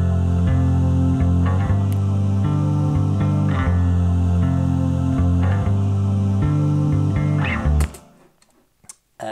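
Tweaked synthetic vocal layers play together as sustained, stacked chord-like tones with shifting notes, loud and steady for about eight seconds before cutting off abruptly into near silence.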